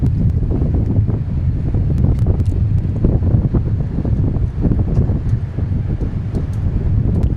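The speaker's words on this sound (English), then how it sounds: "Yeah, I'm getting a consistent breeze here now." Steady wind buffets an outdoor microphone at Dallas Love Field airport, a continuous loud low rumble of roughly 10 to 15 knot breeze with gusty flutter and no talk.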